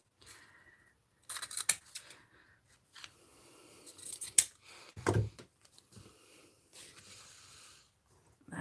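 Scissors snip through ribbon being cut for hair bows, several short crisp cuts in separate bursts against a quiet room.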